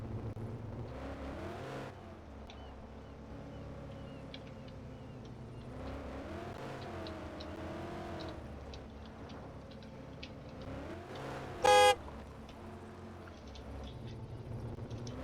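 A 560-horsepower police car with a six-speed manual gearbox in Arma 3 revs repeatedly, its engine pitch climbing and falling in several waves, quietly and steadily, with a brief electronic beep near the end.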